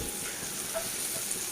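Sliced bitter gourd frying in a pan over raised heat, giving a steady, dense sizzle with a faint crackle and no voices.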